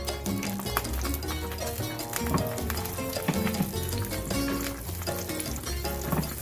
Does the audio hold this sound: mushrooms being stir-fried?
yes